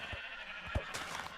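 Minecraft white sheep bleating in the video game, a few short low bleats over a steady background music bed, moderately loud with no talking.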